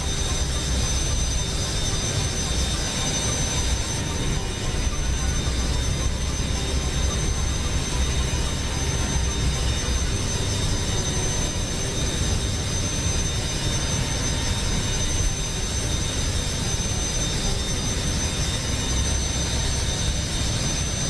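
Boeing 727 jet engines heard from an external flyby view in Microsoft Flight Simulator, a steady, loud, broadband roar with a high whine that holds constant throughout.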